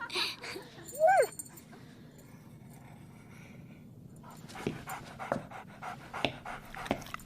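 A dog panting close by in quick rhythmic breaths, with a short whimpering yelp early on and faint room sounds in between.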